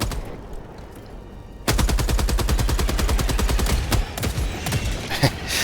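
Turret emplacement machine gun in Helldivers 2 opens up after a quieter stretch, hammering out a loud, rapid, steady burst of close gunfire that runs for several seconds with a few heavier booms mixed in.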